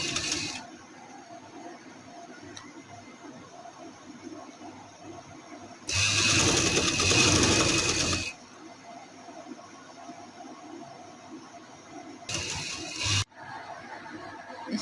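A sewing machine runs in a steady two-second burst, stitching piping onto a cut front neck design, then a brief second burst follows later; otherwise only quiet room tone and faint handling.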